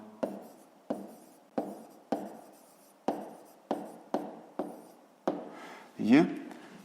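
A pen or pencil writes an answer to a fifth-grade maths exercise on paper, giving a series of about ten short, sharp scratching strokes at a fairly even rhythm, close and clear, followed by a longer rubbing stroke.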